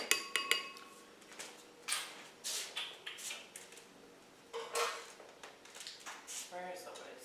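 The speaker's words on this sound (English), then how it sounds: "I'm gonna grab the whisk." Kitchen utensils rummaged through in a drawer while looking for a whisk, a quiet series of irregular metallic clinks and clatters, close by, with a person speaking softly in between.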